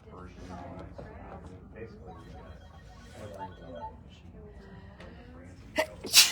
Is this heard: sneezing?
yes